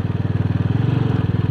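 A motorcycle engine runs steadily while riding on the road from Delhi to Kaza in Spiti, its close, throbbing pulse loud and constant with no talk over it.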